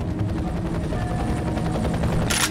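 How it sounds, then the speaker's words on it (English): An evacuation helicopter in the video game F.E.A.R. gives a steady, loud rotor drone that fills the scene, with no voices over it. "You should have a visual on the evac chopper."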